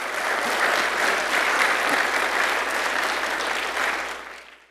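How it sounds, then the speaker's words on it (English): A conference audience at True North Orlando 2025 gives the event sponsors a full round of applause, steady and dense throughout before tapering off at the very end. "So if we can give them a round of applause"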